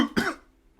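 A single sharp cough, close and fairly loud, followed by a brief quiet tail.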